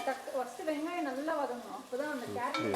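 Ginger and garlic paste sizzles in a pan while being sautéed for vegetable biryani. A person talks continuously over the frying.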